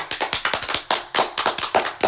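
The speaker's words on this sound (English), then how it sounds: "I want everybody to give yourselves a round of applause" A few podcast participants clap together at the end of an episode, close up, with distinct sharp hand claps in an uneven, quick rhythm. The clapping is alone, with no voices.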